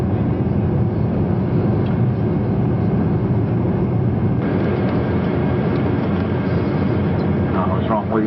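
A Concorde airliner climbs after takeoff, its engines a loud, steady broadband roar filling the cabin, with a voice talking over the noise.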